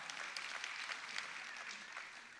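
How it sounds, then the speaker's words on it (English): An audience at a city's State of the City event claps in a steady, dense wash of applause that sounds moderately distant and fairly faint, lasting a couple of seconds. "You can clap for that."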